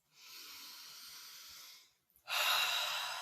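Two deep breaths are heard during an EFT tapping session. A long, steady inhale is followed after a brief pause by a louder, breathy exhale, both close and with no talking.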